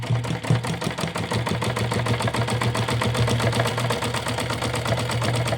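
A sewing machine stitches a wrestling langot made of doubled cloth, running in a fast, steady mechanical rattle that stays close and continuous for several seconds.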